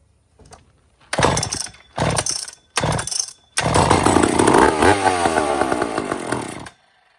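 A chainsaw with a freshly cleaned carburetor that had been drained of fuel: three short, loud pulls sputter, then the engine catches and roars steadily for about three seconds before cutting off.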